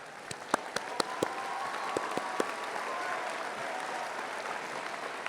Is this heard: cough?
no